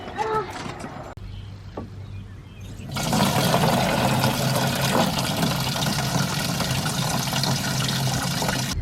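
Water sprays from a hose onto growing plants on an allotment: after quieter rustling and a brief click, a steady broadband hiss starts about three seconds in and continues evenly to the end.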